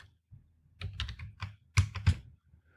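A short, hesitant burst of computer keyboard typing on a Slackware Linux setup, a few scattered key presses ending in two louder, sharper taps, close by.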